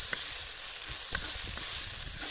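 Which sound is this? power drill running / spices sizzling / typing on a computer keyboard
spices sizzling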